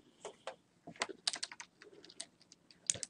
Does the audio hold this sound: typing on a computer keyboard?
yes